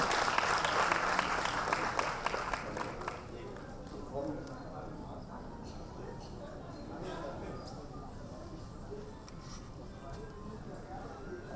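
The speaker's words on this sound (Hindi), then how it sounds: "जोरदार तालियां बजाएं उनसे।" At a Women's Day 2018 gathering, an audience bursts into loud clapping for a few seconds, then the applause fades and a person speaks over the room's background murmur.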